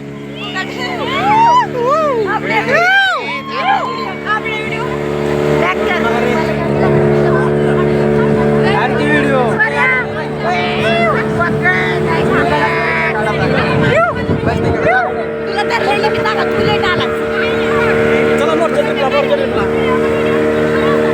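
A motorboat on the sea during a Malvan trip reverses and swings into a U-turn, its engine droning steadily and loudly while a group of people chatter, shout and whoop over it.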